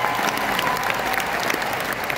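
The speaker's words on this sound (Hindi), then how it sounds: "इस प्लेटफॉर्म के लिए जोरदार तालियां होना चाहिए" Dense, steady applause from an audience at an AWPL platform event, many hands clapping together without pause at a moderate, even level throughout.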